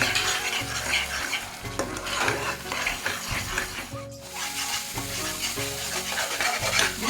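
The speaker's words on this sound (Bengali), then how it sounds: "এখন এটা ভালো করে আমি ভাজবো। যত সময় তেল ছাড়তো না তত সময় আমি এটা সাতলাইতে থাকবো।" Spice paste fries in oil under a steady dense sizzle while a spoon stirs and scrapes the pan in repeated strokes, close and fairly loud, with no speech.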